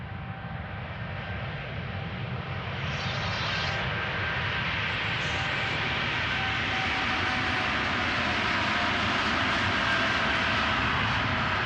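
A KLM jet airliner, flight 661, departs Amsterdam Schiphol with a powerful engine roar that swells after a couple of seconds and then holds loud and steady, with faint whining tones above it and no talk.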